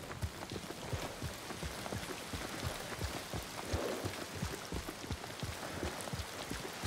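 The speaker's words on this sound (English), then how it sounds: "It's starting to rain." In the Ghost of Tsushima video game, steady rain patters on surfaces while a horse's hooves clop rhythmically through the downpour, all at a low, even level.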